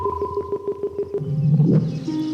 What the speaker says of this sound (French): ça c'est le bruit de la moula.